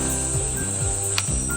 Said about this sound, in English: Oh, there's a cicada.